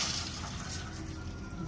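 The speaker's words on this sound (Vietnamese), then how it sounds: "Rồi, đổ nước vô luôn đó nha." Water pouring steadily into a pot in a home kitchen, a continuous close splashing gush that stays even throughout.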